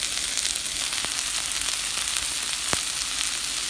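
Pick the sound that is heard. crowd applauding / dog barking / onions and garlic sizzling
onions and garlic sizzling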